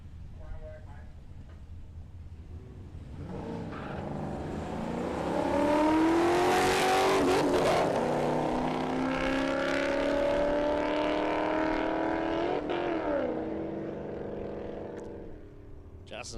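Holden SS Tirana hatchback drag racing at Palmyra Raceway, engine approaching and roaring flat out through rising gear-change sweeps, peaking loudly then fading away, with a commentator talking over it.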